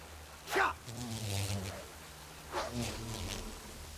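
Bees buzzing in the video game World of Warcraft, a soft insect drone running under game ambience with a couple of brief louder bursts.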